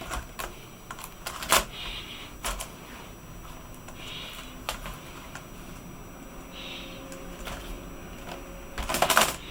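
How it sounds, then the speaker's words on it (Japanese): A Dynabook F40 laptop keyboard is pried loose by hand, giving scattered plastic clicks, snaps and rattles at close range over a quiet room hiss, busiest at the end. "キーボードを外します。"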